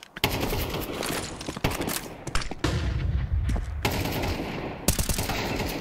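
Gunfire during a Counter-Strike 2 match, including sniper rifle shots: a dense run of sharp cracks and bursts over a noisy game background, loud and close, with no clear speech.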